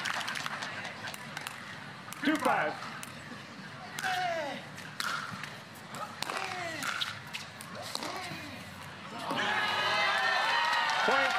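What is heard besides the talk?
crowd cheering at a tennis match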